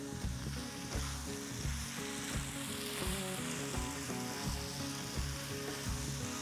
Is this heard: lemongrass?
yes